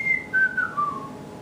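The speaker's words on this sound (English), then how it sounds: "Sorry, I can't whistle that good." A person whistles a short, shaky tune of four or five descending notes, close and alone, with no other sound around it.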